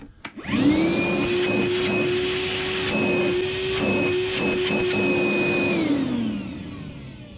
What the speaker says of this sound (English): I'm annoyed with the noise that it puts out. It's kind of loud, just like any vacuum.